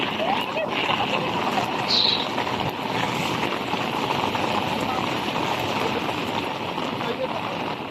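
Heavy rain pours over floodwater in Dubai as a steady, loud wash of splashing and hiss, with people talking close by over it.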